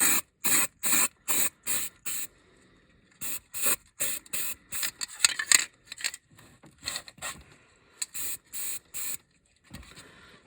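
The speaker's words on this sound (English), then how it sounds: "I like to use this foam thing that I have and start spraying it." Short bursts of spray primer hiss onto a 1:64 die-cast Chevy Tahoe model in quick rhythmic pulses with brief pauses between groups, close and crisp, with no voices.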